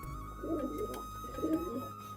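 Pigeons coo in two soft, low rolling phrases a second apart, close by, over a steady faint background hum.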